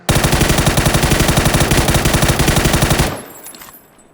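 Rapid automatic gunfire in PUBG, a loud sustained burst of steady shots lasting about three seconds, then cutting off abruptly and fading.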